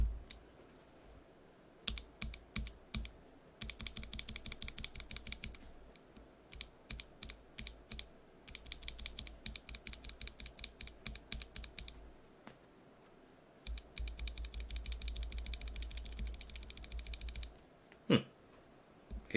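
Rapid typing on a keyboard fitted with lubed NovelKeys BOX Cream switches, close and clear, in bursts of clacky keystrokes with short pauses between runs, ending in a single louder knock.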